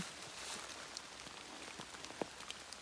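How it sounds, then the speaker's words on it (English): Steady rain patters on a surface, with a few individual drops tapping louder near the end, no voices. "So you can see, we definitely needed this rain."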